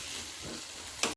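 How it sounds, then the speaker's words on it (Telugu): Pieces of bottle gourd cook in a pan over a high flame, giving a faint, steady sizzle with a brief louder crackle near the end. "కొంచెం హై ఫ్లేమ్లో పెట్టుకొని మగ్గించుకోండి"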